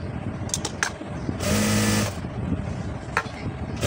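A sewing machine stitching blouse fabric runs in one short steady burst of about half a second, close and fairly loud, with quiet room noise and a few small clicks on either side.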